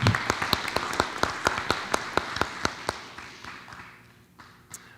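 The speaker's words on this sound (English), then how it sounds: "If you would, give Ms. Bogues a round of applause." A small audience at a school board of education meeting gives a round of applause for a board member: sharp, distinct individual claps in a steady rhythm, gradually thinning and fading toward the end with a last stray clap.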